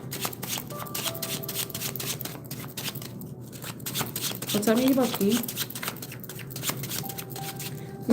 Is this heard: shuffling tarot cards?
yes